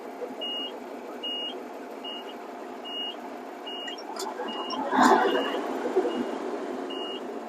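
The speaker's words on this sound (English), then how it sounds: "Low air warning works." Cabover Kenworth truck's low air warning alarm beeping in a steady repeating pattern of short tones over idling engine noise, with a clunk midway and a voice faintly underneath.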